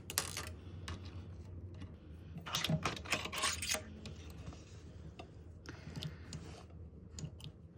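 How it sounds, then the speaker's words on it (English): A home sewing machine fitted with a zipper foot stitches an invisible zipper onto one side of a skirt seam, a quiet run of rapid mechanical ticking and whirring that swells in faint bursts as the needle drives. "Now I'm going to sew my zipper on only one side with the center back seam open and the waistband unfolded"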